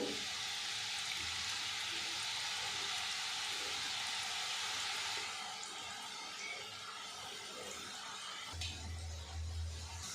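Sweet palm-fruit polao batter frying in hot oil makes a steady, hissing sizzle that is louder for the first half, then settles into a softer, even fry with a low rumble near the end; no one talks.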